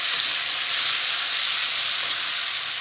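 Tomatoes and green chillies go into a pan of browning onions, and a loud, dense sizzle of frying holds steady throughout with no pauses.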